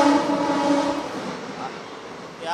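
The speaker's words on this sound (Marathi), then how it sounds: "या एक्सप्रेस आता आपण पाहू शकता" An express train passes at a railway station in Badlapur, a broad rumbling roar with a brief horn-like tonal blare at the start, fading gradually as the cars roll by.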